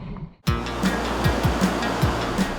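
Ocean surf rushes and crashes in a steady wash of noise, close and loud, after a brief quieter moment at the start.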